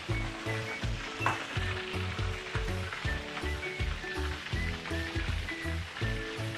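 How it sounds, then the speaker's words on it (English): Steady, dense sizzling of chicken deep frying in oil with a rhythmic low thumping underneath, continuous and fairly loud throughout. "very nice deep frying sound right now"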